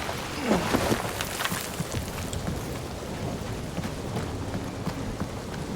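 Steady rain patters on surfaces with a low rumble of thunder underneath in the video game Marvel's Guardians of the Galaxy, and a brief whistling sweep near the start; no speech.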